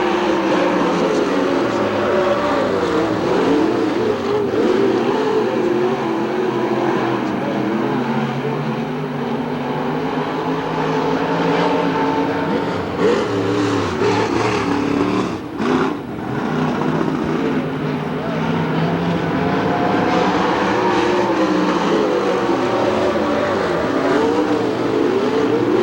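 Race cars circle Hamilton County Speedway under green flag at a 1993 memorial race. Their engines blend into a steady, droning roar with mild swells as the pack passes, heard from some distance.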